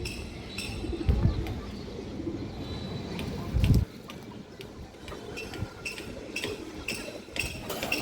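Cooing from a restless female pigeon among other birds, low murmuring coos recurring through the stretch with a louder burst near the middle and faint clinks and chirps around it.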